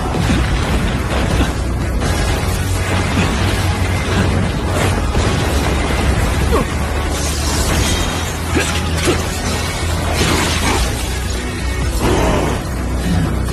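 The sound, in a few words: Song of Fire fire attack explosion in Solo Leveling anime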